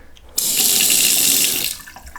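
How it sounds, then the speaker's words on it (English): A faucet in a rebuilt salvaged mobile home runs water into a porcelain sink. The stream starts abruptly and rushes loud and steady for over a second, then cuts off. No one talks. "Here's the faucet."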